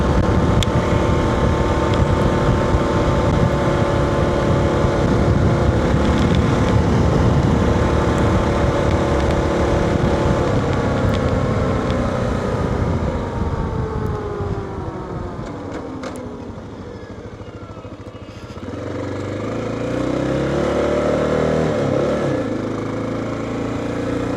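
A Kawasaki dual-sport motorcycle, a KLR650 or KLE500, roars close up on a road with strong wind buffeting. The engine pitch climbs and falls through gear shifts, dips as it slows, then rises again.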